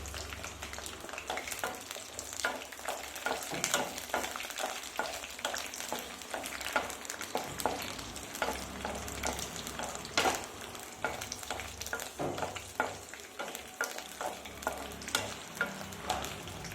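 Green chillies fry in hot oil on a stove with a continuous dense sizzle and crackle, stirred now and then, loud and close with no talking.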